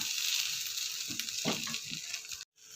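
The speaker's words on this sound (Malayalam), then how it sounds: "മുരിങ്ങയില നന്നായിട്ടൊന്ന് താളിച്ചെടുക്കുക." Drumstick leaves sautéing in a hot pan for a tempering, with a steady close sizzle and a few stirring scrapes before a brief cut near the end.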